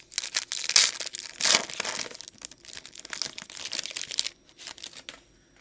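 A foil wrapper on a Panini Absolute football card pack is torn and crinkled open up close, with bursts of sharp crackling and ripping over a few seconds, followed by quieter rustling.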